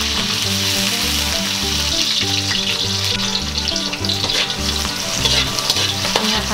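Spring onion leaves sauté in a hot pan for beef with mushroom, a loud, steady close-up sizzle and hiss that holds evenly from start to finish.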